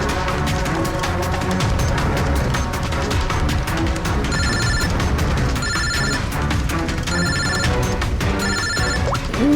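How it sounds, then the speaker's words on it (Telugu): A telephone rings for an incoming call inside a taxi, sounding loud repeated bursts of electronic ringing in a steady rhythm over a constant background hum. "ఒక కాల్ వస్తుంది."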